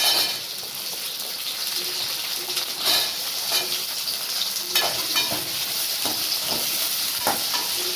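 Onions frying in hot oil with garlic and curry leaves hiss in a continuous close sizzle, broken by scattered spatula scrapes and light clatter across several seconds, with no talking.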